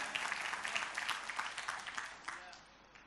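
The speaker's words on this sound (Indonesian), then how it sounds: "Yang setuju berikan tepuk tangan" Church congregation claps in applause, a busy wash of hands at moderate level that thins slightly toward the end, with voices mixed in underneath.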